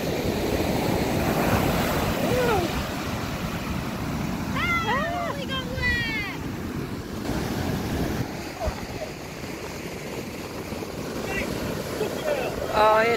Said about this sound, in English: I love listening to the sound of the waves.